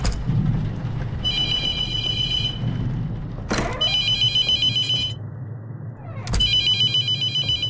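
A telephone rings in the horror video game The Mortuary Assistant, sounding three loud electronic bursts separated by pauses, with a dull thump before the second ring.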